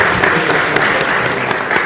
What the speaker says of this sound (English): Let's give him a round of applause, everybody.